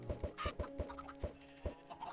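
Chickens cluck in a Minecraft farm, a rapid run of short, sharp clucks about every quarter second, close and moderately loud, with no talking.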